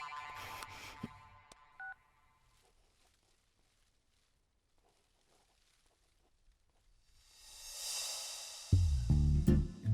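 A few short electronic keypad tones from a phone number being dialed sound near the start, followed by a long quiet stretch, then rising noise and a loud tonal burst at the end.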